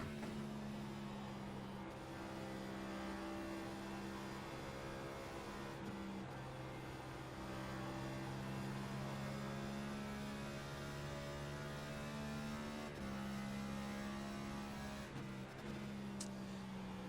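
A Next Gen race car engine in a sim racing game at Darlington, late in a run: a steady, droning engine tone that holds constant with slight pitch shifts and brief dips as the car shifts or lifts, fairly quiet and without talk.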